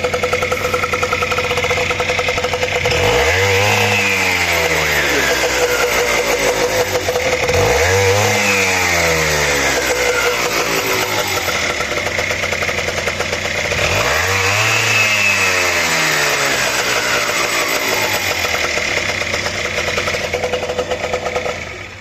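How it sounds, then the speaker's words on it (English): A Honda Vision scooter engine runs with the back brake held on, revving up loudly three times from a buzzy idle and dropping back each time, close and harsh, no voices. "Of course I started it and revved it and I had the back brake still on"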